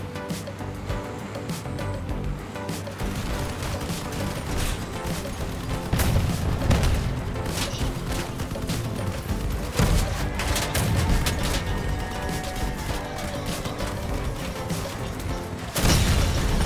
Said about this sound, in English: Alright, got him out with the cannon.